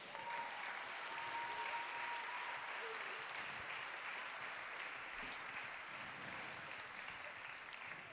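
Audience applause at a concert for a singer's album launch, a steady even rain of clapping across the hall, fairly quiet and distant, with a faint tone and a brief sharp knock partway through.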